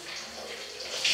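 Water pours steadily from a tap into a public bathing pool, a constant rushing hiss heard close by with no voices.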